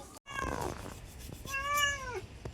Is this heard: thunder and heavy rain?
no